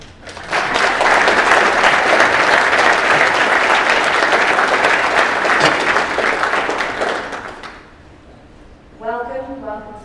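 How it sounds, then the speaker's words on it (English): Sustained audience applause fills a conference session on the 2021 World Anti-Doping Code, loud and steady for several seconds before fading out, followed by a brief spoken voice. "A round of applause"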